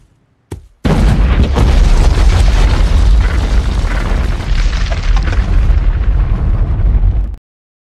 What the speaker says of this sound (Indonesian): Bom di sekitar piramida pun meledak dan menghancurkan semua piramida